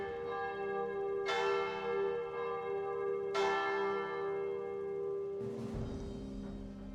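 Church bells ringing in a video game, two loud struck chimes a couple of seconds apart with long humming decays, followed by a burst of noisier sound near the end.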